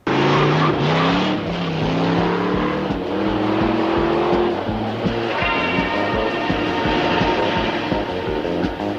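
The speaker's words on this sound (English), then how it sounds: "That's a good way to spin out on a wet road." Cartoon car skidding and spinning out on a wet road, a loud sustained engine roar with squealing tire skids sliding in pitch, rumbling over a busy animated soundtrack.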